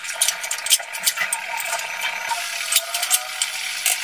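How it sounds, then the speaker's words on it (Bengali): Mutton is stirred with spices in a pressure cooker over a low-to-medium gas flame, giving rapid scraping and clinking spoon strokes against the metal pot in a steady, busy rhythm, close and fairly loud. "মাংসটা দেওয়ার পর এবার ভালো করে সব কিছুকে মিশিয়ে নিচ্ছি।"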